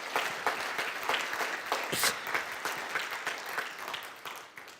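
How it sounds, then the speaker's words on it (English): A conference audience at a European policy summit giving a round of applause, dense steady clapping from a sizeable crowd that fades slightly toward the end. "A little round of applause would be great there."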